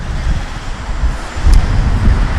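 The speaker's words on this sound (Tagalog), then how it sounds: "Lakas ng hangin, narinig yung, narinig yung lagablab ng hangin." Strong wind buffeting the microphone, a loud low roar that surges and gusts without pause.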